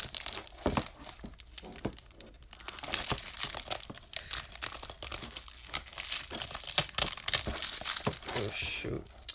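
Plastic wrap on a Wiggles DVD case crinkles and tears close up as it is pulled open, in a continuous run of crackly rustling with sharper snaps.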